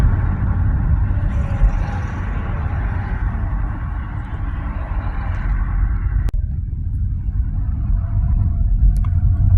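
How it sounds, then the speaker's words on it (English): A car drives through residential streets in Bergen, Norway, its steady engine and road rumble close and continuous, with one brief sharp knock partway through and no talking. "We're just driving through the residences."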